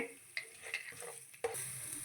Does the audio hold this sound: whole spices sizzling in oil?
yes